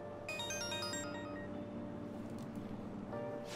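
Phone ringtone in the video game Persona 5 Royal: a bright melodic electronic jingle of stacked chiming notes in the first second, then fading into a low ambient game background hum.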